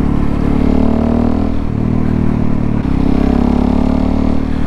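A Suzuki DRZ400 motorcycle accelerates on a night ride, its engine a loud, close, continuous roaring drone that holds steady throughout with no talking.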